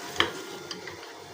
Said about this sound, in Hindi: हम मसाले में ना ये कद्दू भी साथ डाल के भून लेंगे